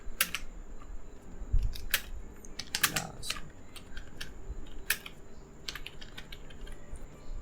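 Close, quick keystrokes on a computer keyboard, typing text beneath an image in an MS Word document, come in irregular bursts with short pauses and no talking.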